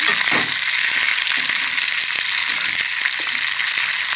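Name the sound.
potato fry sizzling in pan with green chillies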